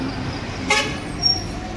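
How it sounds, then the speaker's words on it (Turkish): A busy street in the Bethel area of Addis Ababa carries constant traffic rumble, with a short car horn toot near the middle and another faint beep shortly after. "Cadde yine vızır vızır, hiç durmuyor maşallah. Gün boyu akıcı trafik."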